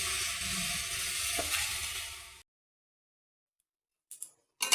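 Leafy greens, bathua and bottle gourd leaves with coriander, sizzle and fry in a pan on a stove, a steady close hiss for a couple of seconds before it cuts out, then two brief bursts return.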